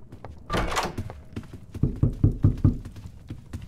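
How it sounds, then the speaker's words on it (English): Knocking on a door in the Roblox horror game Doors, a series of loud, evenly spaced thuds forming a steady rhythmic knock, near and clear, after a burst of noise at the start. "Stop knocking."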